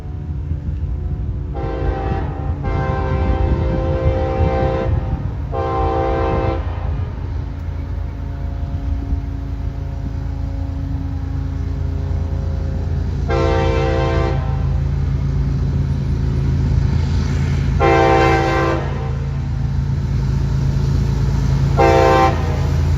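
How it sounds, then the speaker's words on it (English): A train passes steadily and loudly close by, with a rumble throughout, while its horn sounds several times: two blasts early, then a long blast, then two shorter blasts near the end. "I have a second view of the same train."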